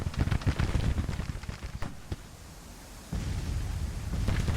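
Cannon fire in the Civil War strategy game Grand Tactician, a string of rumbling booms and cracks of varying distance over a steady battlefield din, with one sharp report standing out near the middle.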